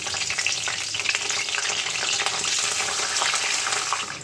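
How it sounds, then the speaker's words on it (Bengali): Dried red chillies, whole cumin and two bay leaves crackle and sizzle in hot oil, a dense steady fry with scattered pops, loud and close, no voices. "তো প্রথমে আমি তেলটার মধ্যে শুকনো লঙ্কা, গোটা জিরে এবং 2টো তেজপাতা ফোড়ন দিয়ে দেবো।"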